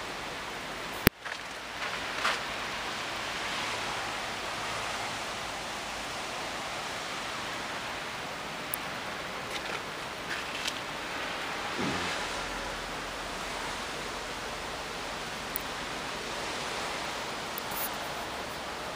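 Steady soft hiss of rain falling on a thick snow cover outdoors, even and continuous throughout, with a sharp knock near the start and a few faint scattered ticks.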